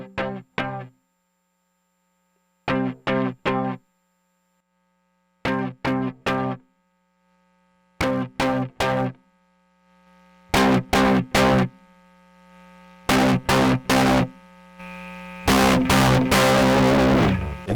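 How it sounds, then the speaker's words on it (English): Electric guitar played through a heavily saturated preamp for a lo-fi tone, short strummed chord bursts separated by silences, growing louder and more distorted, ending in a sustained ringing chord. "The more you get towards mic, the more saturated the tone will be."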